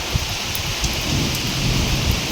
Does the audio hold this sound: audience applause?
no